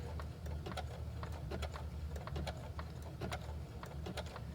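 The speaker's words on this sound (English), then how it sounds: "I'm going to back stitch again to lock that in" A sewing machine back-stitching to lock a seam on a reusable produce bag, a quiet, steady mechanical whir with rapid rhythmic needle clicks, close up and alone.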